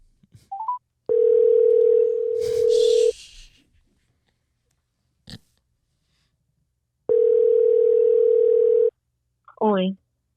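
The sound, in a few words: telephone dial tone while placing a call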